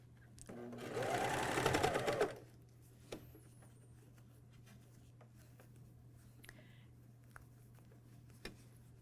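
A MyLock 454D serger runs in one short, steady burst while stitching a pajama top seam. The burst is fairly loud and close, then the machine stops, leaving faint handling noises and a low steady hum.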